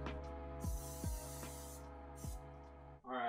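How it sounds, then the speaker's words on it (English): Cooking spray misted onto a mini cake pan, short airy hissing bursts heard close up over steady background music. "I forgot to spray the pan again."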